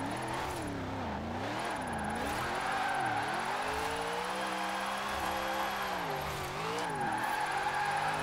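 The Fast and Furious Charger with a locked differential roars as it drifts sideways in Forza Horizon 4, its engine revving and swooping in pitch through repeated slides, loud and close throughout.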